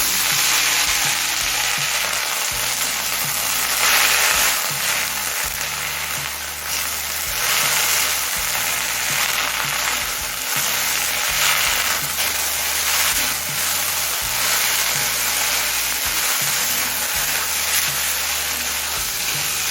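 Drumstick leaves fry with browned onions in a pan, a dense, loud, steady sizzle with rain-like crackle throughout and intermittent stirring scrapes underneath.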